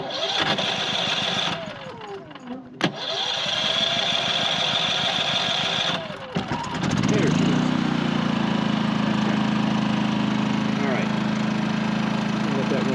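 A FIRMAN WH03242 generator set to propane is choked and cranked, sputtering briefly before catching and settling into a loud, steady running drone close by, with a voice heard over the engine.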